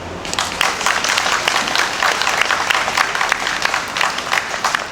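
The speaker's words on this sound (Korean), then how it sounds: "다시 한번 힘찬 박수 부탁드리겠습니다" An audience at an outdoor memorial service for COVID vaccine victims applauds steadily, a dense and sustained wash of many clapping hands with no voices over it.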